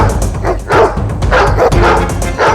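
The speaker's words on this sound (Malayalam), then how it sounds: "വേട്ട നായ്ക്കളെ കൊണ്ട് നായാട്ടുകാർ എത്തിയിട്ടുണ്ടെന്ന് തോന്നുന്നു" Hunting dogs bark in a jungle cartoon, a rapid run of loud, close yips and bow-wows with a few whimpering notes mixed in, filling the whole moment without speech.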